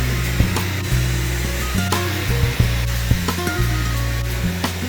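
A Dyson hair dryer blows steadily, an airy rushing hiss over a low motor hum, broken by frequent small handling clicks and knocks close by.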